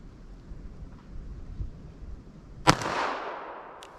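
A single sharp pistol report from a .32 S&W Long hard cast Buffalo Bore round fired into ballistic gel, loud and close, with a rolling echo that fades over the next second above a quiet outdoor background.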